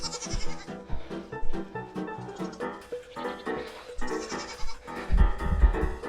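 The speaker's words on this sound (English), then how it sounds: "I hate goats." Several goats bleat repeatedly and loudly at close range, their overlapping cries coming in an irregular stream with a little faint talk.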